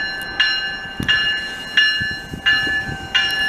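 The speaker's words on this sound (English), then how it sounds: "it's a freight coming" Rhythmic clanging bell strikes repeat about every second over a low rumble, like a railway crossing bell as a Canadian National freight train approaches in Montreal in February.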